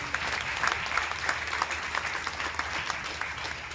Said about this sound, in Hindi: एक बार आप सबके लिए जोरदार धमाकेदार ताली होगी।